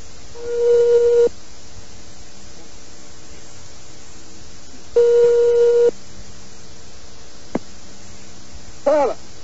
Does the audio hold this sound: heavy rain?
no